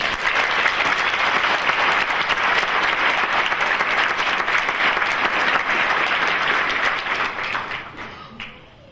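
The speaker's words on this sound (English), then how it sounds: "can you give them another round of applause?" A graduation ceremony audience at a Navy MLT event gives sustained, dense applause that holds steady for about eight seconds before thinning out at the end.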